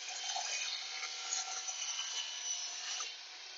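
A Shopsmith Miter-Pro saw cuts through wood stock, giving a steady, fairly quiet, thin rasping whir that fades slightly at the end, with no talking.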